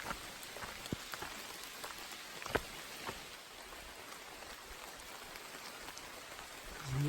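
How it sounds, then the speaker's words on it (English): Rain falls on a wooded Appalachian Trail section between War Spur Shelter and Catawba as a steady soft patter, with scattered louder drips striking close by. "Rain isn't too bad right now."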